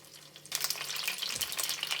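A sudden loud hiss as onion puree hits a hot pan, followed by steady crackling sizzle close up.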